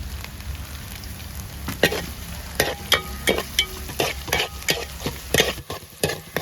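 Green chillies fry in a sizzling fish curry base for a silver fish curry, a steady crackle broken by repeated scrapes and clinks of a spoon stirring the pan, with no talking.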